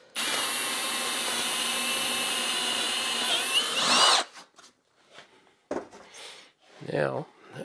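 A power drill with a Forstner bit boring a shallow hole in wood runs loud and steady for about four seconds, then stops, followed by a few handling knocks and a brief voice.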